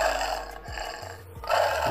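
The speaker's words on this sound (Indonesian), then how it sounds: "suaranya singa laut, lucu ya ternyata" A sea lion call played from a children's animal sound book, heard as a short, low, gravelly bark-like roar that swells and repeats, fairly loud and close with no talking over it.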